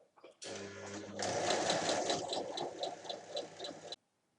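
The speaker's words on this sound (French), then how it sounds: "placer une épingle dans la couture, tracer une base de 10 cm, coudre sur la ligne" A sewing machine stitches across the squared-off corner of a fabric bag, running a steady, close, mechanical whir with a fast rhythmic tick for a few seconds before stopping abruptly.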